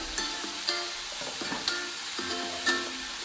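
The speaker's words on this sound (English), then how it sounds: "I would stir it real good now." A pot of boiling rice being stirred on the stove gives a steady low sizzle and bubbling, with a soft scrape or knock of the spoon about once a second, close and moderately quiet.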